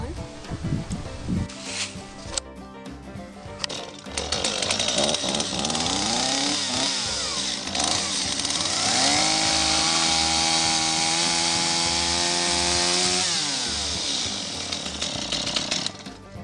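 A power saw cuts wood pieces for nailing up on a homestead build, loud and close, running continuously with the pitch rising and falling as the blade bites. A few short knocks and starts come first.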